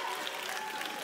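An audience at a school speaking-contest final in Lyon bursts into applause, a dense, steady wash of clapping that holds evenly for about a second.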